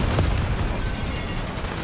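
Gunfire and blasts in the Call of Duty Black Ops 3 Nightmare campaign: a short, dense burst of loud, booming noise that rolls on without a break or a clear gap.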